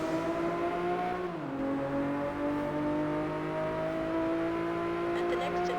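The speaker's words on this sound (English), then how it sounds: "I can hear him accelerating already" Racing car engine in Test Drive Unlimited accelerating under a steady drone, its revving pitch rising and dipping over several seconds, with a voice talking faintly over the constant engine noise.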